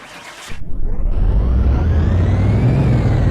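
Car engine in Car Mechanic Simulator 2018 revving up hard on a dyno, a steady loud roar that climbs in pitch after a brief quiet start and keeps building without a break.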